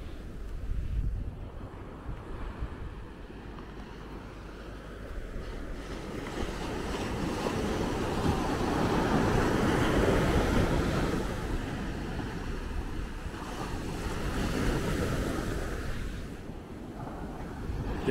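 Ocean surf washes steadily onto a sandy beach at Maspalomas, Gran Canaria, a continuous broad roar that swells and recedes, with wind buffeting the microphone and no voices.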